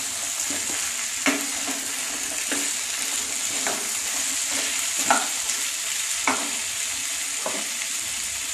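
Potato, papaya, carrot, capsicum and chicken frying together in a pan for a stew, a continuous close sizzle with repeated spoon scrapes and knocks every second or so, no voices.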